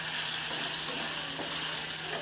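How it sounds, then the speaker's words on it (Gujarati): Spices for a dry moong dal tempering are stirred and fried in hot oil, with a dense, loud, continuous sizzle that runs unbroken throughout. "આ બધા જ મસાલાને સરસ આપણે મિક્સ કરી દઈશું"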